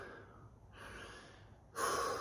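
Heavy, ragged breaths after a set of pig squats, a few audible inhales and exhales close to the mic, the last one louder and harsher.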